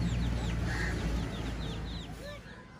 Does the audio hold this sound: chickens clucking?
yes